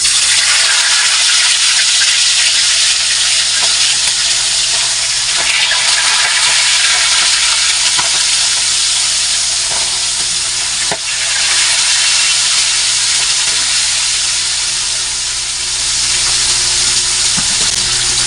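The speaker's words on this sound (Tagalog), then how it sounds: "Eto na siya at ipiprito na natin siya mga idol." Milkfish (bangus) frying in hot oil, a loud steady broadband sizzle with scattered small pops and crackles running the whole time, close up and with no talking.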